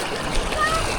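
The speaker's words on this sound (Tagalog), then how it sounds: "Pero napakalakas ng agos." A strong river current rushes over stacked rocks, giving a steady, full broadband roar of moving water with splashing, with what may be voices under it.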